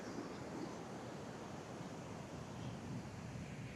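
Steady broadband roar of surf and wind at a beach in Peru, constant and fairly loud, with no voices and no distinct breaks between waves.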